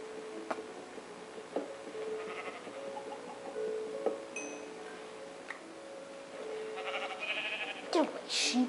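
Sheep bleating in the Minecraft video game, several short calls scattered across the clip, moderately loud over quiet in-game ambience with a few small clicks.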